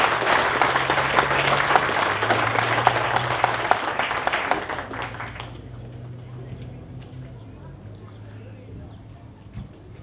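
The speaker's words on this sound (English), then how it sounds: "So those of you that remember him, a round of applause." Outdoor audience applause at a Memorial Day tribute in Rialto, dense clapping for about five seconds, then thinning and fading to scattered claps and quiet background.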